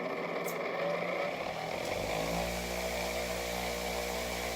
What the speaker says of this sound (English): I'm just going to show you really quickly how fast I can get an edge on this knife